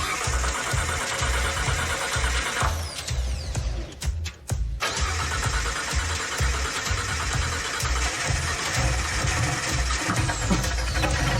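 A rebuilt De Tomaso Pantera engine cranks, catches and runs with a loud, rough, pulsing idle, cutting out briefly before roaring back and settling into a steady lumpy rumble.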